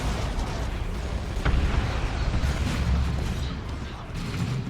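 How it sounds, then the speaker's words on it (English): Grenade explosions during a 3v3 Dawn of War 2 battle, dense rumbling blasts and battlefield din running continuously, with one sharper burst near the start. "These scouts can disrupt with a grenade."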